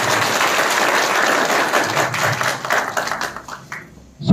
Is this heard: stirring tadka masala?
no